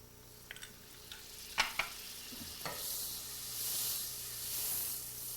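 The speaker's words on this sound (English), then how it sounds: "You can hear probably the sizzling." Soft, steady sizzling of oil and butter in a hot pan for garlic chicken, with a few clinks and stirring scrapes, quiet and close.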